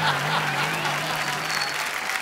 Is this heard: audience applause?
yes